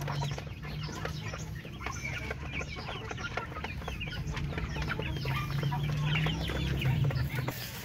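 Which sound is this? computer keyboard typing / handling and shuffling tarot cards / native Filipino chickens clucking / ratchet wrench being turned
native Filipino chickens clucking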